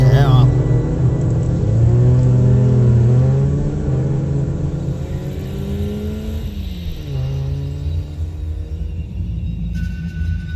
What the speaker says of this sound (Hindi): उनकी गाड़ी धीरे धीरे जंगल के डरावने माहौल से बाहर निकलने लगी।